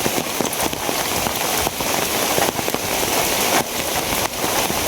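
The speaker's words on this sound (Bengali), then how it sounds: "এখন প্রায় 2 ঘন্টা ধরে বৃষ্টি হইতেছে," A long spell of heavy rain on an Eid morning roars continuously, loud and close, with dense pattering on surfaces and brief surges in intensity, no voices over it.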